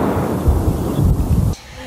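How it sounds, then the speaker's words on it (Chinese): Artillery shelling near Zaporizhzhia: a deep, rolling boom and rumble that fills the short stretch before cutting off abruptly into quieter background. "附近小镇每天炮声不断"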